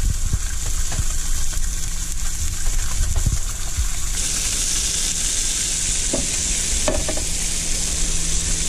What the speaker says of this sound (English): That sizzle, beautiful.